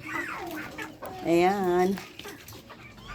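Rooster clucking and crowing near a person who has just fed the farm birds, its harmonic call rising loud in the middle amid morning chatter; people talk throughout.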